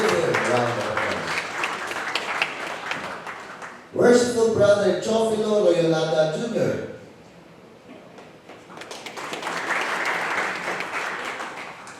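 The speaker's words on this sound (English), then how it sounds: "Maybe give him a round of applause." Audience applause at a Masonic lodge public installation ceremony breaks out around an announcer calling out a member's name, with dense clapping under and after the amplified voice.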